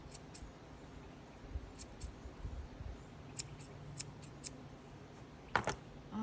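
Scissors trimming the bristles of a homemade watercolor paintbrush, a scattering of small, quiet, sharp snips spread across the moment, one crisper cut near the end over faint room hiss.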